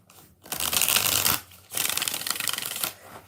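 A deck of tarot cards is riffle-shuffled twice in close succession, each a dense, crisp burst of flapping card noise lasting about a second, with a short pause between them and no talking.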